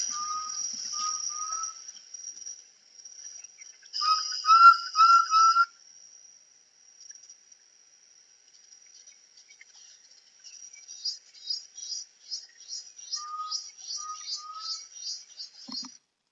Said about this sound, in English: So that is the sound of the tinamou, an undulated tinamou.